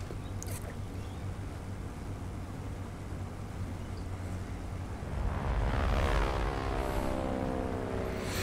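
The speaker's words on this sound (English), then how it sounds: "It's a Spitfire." A Spitfire's propeller engine drones steadily in World of Warplanes gameplay, then swells louder and brighter near the end as the aircraft passes close.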